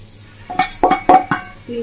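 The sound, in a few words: stirring pitha filling in a wok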